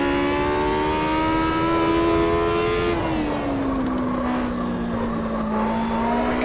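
A race car engine held on throttle in the video game Automobilista 2, a loud, steady, buzzing whine that drops in pitch once partway through and then climbs again.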